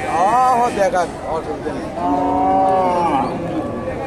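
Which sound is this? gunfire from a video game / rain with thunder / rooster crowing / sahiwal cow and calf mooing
sahiwal cow and calf mooing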